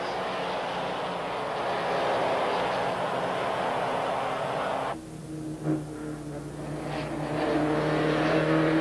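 A field of 1986 Rothmans Porsche 944 race cars charges into turn 1 at the start in close formation, a loud, dense roar of many engines that drops sharply midway, then swells again as more cars pass.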